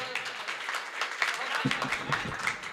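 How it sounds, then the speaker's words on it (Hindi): Audience applause for a poet at a comedy poetry event in Hindi, a sustained crowd clapping throughout while a presenter speaks over it. "एक बार और बड़ा कर दीजिए इन तालियों को"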